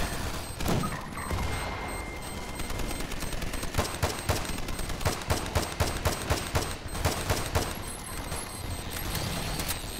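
Rapid bursts of automatic gunfire from the Half-Life 2 mod Raising the Bar Redux rattle almost continuously, dense and loud with a few booming shots mixed in.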